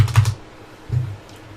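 Quick bursts of typing on a computer keyboard while a customer's name is entered, a short cluster of clicks followed by a brief pause and a second small burst, close and moderately loud with no voices.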